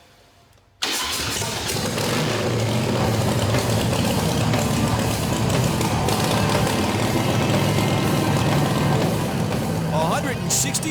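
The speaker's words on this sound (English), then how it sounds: "160 horsepower vented through open pipes. Sounds better." Custom 160-horsepower motorcycle engine firing up through open pipes after a moment of quiet, then a loud, rough, sustained rumble with throttle swells, a voice faintly under it.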